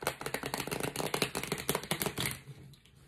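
A Thoth tarot deck with machined, rounded corners being riffle-shuffled, producing a quick crisp flutter of cards for about two seconds before settling into quiet.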